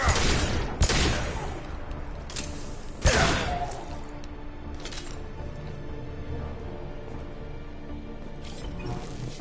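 Grenade blast and gunfire in the Mass Effect video game: a few sharp booming impacts early on, the loudest around the third second, followed by scattered softer shots and rumbling game ambience.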